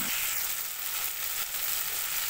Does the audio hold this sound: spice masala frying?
yes